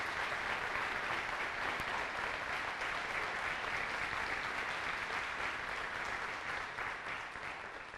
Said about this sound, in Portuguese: dar a você aí da sua casa uma forte salva de palmas